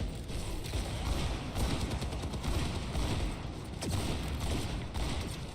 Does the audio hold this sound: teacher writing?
no